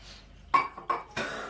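Drinking glasses being picked up and set together, three sharp close clinks and knocks spaced across a quiet moment, with no talk.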